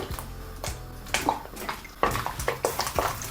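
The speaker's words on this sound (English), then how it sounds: "In boiling water, add a good touch of salt with your potatoes." Potatoes drop into a pot of boiling salted water, a series of sloshing splashes and watery bursts close up, with bubbling in between.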